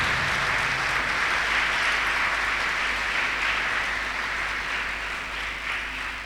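A church congregation claps loudly and steadily at a Feast of Epiphany Sunday service, a dense, even wash of applause lasting the whole stretch and easing slightly at the end.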